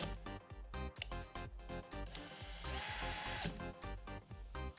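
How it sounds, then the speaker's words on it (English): A power drill whirs steadily in rapid pulses, its motor pitch rising briefly as it bites into material, loud and close with no talking. "Pulling the trigger gently and drilling a hole."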